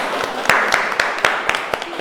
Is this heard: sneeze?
no